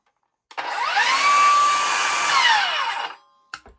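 A Hercules 20V cordless 7-1/4 in. rear-handle circular saw with a 12 amp-hour battery spins up with no load, whining up to a steady high-pitched motor scream for about two and a half seconds, then winds down, followed by a few clicks.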